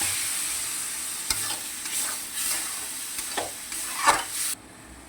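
Dried fish sizzles in a pan with mustard oil as a little water is added, making soft crackling bursts and hissing with a few stirring scrapes. The sound is close and fairly quiet and cuts off near the end.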